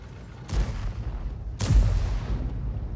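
Two deep booms from a T92 HMC self-propelled howitzer in a tank game, the shell firing and landing about a second apart, each a loud close blast trailing into rumble.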